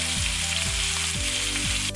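Steak sizzles steadily in an oiled pan with garlic and parmesan, a loud, continuous close-up frying hiss with a faint low hum running underneath.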